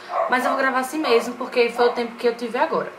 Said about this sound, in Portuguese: Desculpa pelo barulho dos cachorros